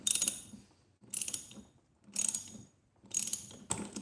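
A ratchet works a Loctite-secured part loose on the throttle body of a Ducati 996, four quick bursts of clicking spaced about a second apart, close and fairly loud, with no talk.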